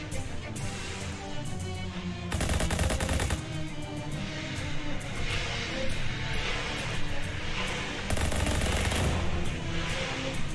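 Sustained bursts of automatic gunfire from the Shadows Over Loathing video game, loud and dense, with heavier volleys around two seconds in and again near eight seconds, no voices over it.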